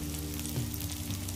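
A dried pollock pancake sizzles steadily in a frying pan as it browns after a flip, a continuous close crackle with a low hum underneath and no voices.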